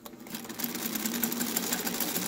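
A Singer Featherweight sewing machine stitching fabric, a steady rapid mechanical whirr with fine rhythmic clatter, close and moderately loud with no voices.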